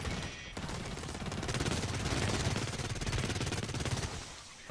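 Rapid, sustained submachine-gun fire with toxic ammunition in the online shooter Blacklight Retribution, a dense rattling burst lasting several seconds at close range, with no voices over it.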